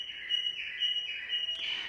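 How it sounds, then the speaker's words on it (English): Bright, steady cockatiel chirping and whistling, a continuous high-pitched song with repeated sustained notes, fairly quiet with no talking. "We're currently bird sitting, so not only do we have our own 2 cockatiels, Remy and Pebbles, who I showed you earlier,"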